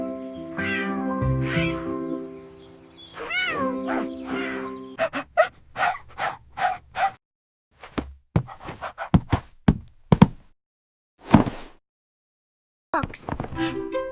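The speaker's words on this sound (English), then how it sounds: "That sounded like a cat." Cartoon cat meowing in an animated classroom scene, a few drawn-out meows at the start followed by a quick series of short, sharp mews and chirps with gaps of silence between.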